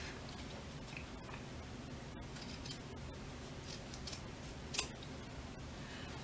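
Scissors cutting through denim jeans fabric: faint, sparse snips and clicks against a steady low hum, with one sharper snip near the end.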